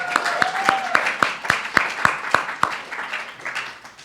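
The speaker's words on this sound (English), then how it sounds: "Let's give a round of applause for Joseph." A congregation at a Sunday church service applauds Joseph, who runs the tech at the back: a steady run of distinct, evenly spaced claps, fairly close and clear, tapering off toward the end.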